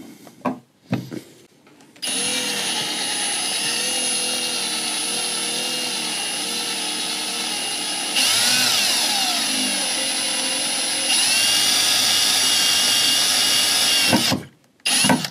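A power drill whines steadily at close range for several seconds, its pitch shifting slightly as it bores a hole for a cargo barrier in a Toyota Prado 150 Series, then stops.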